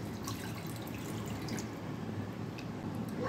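Water runs and drips steadily over cut brinjal in a kitchen, a constant soft splashing trickle close by, with no talk.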